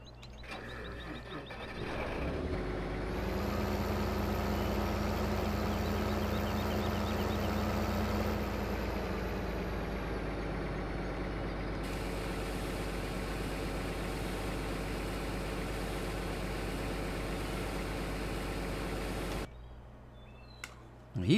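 A tractor engine in Farming Simulator 2015 starts up and settles into a steady low idle that rumbles on for a long stretch, then cuts off near the end.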